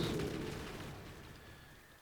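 Heavy gunfire in the Modern Warfare 3 video game roars loud and dense at first, then rumbles and fades over about two seconds, with no voices.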